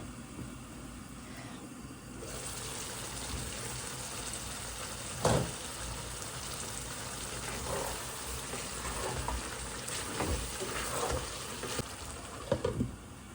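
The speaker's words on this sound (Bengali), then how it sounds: "এখানে হচ্ছে আমি দিয়ে দিয়েছি প্রথমে তেল, তারপরে হচ্ছে দিয়ে দিলাম পেঁয়াজ কুচি" Chopped onion fries in oil in a pan, giving a continuous close sizzle with occasional stirring scrapes and knocks, the sizzle intensifying after the first couple of seconds.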